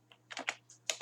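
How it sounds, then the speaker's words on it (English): Keys on a computer keyboard are struck in a quick burst of about six close, crisp clicks over a faint steady hum. "type the file name"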